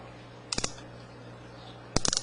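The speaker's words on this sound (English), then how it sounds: "And the brake clicker is really loud." Brake clicker on an Abu Garcia Oceanfield BG-L fishing reel, heard as two short bursts of rapid, close clicking about a second and a half apart over a quiet background.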